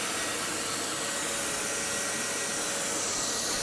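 Emco Super 11 lathe cutting at 1000 RPM, a steady, even broadband whir with a faint high hiss of the cut, constant and fairly close for the whole stretch with no voices.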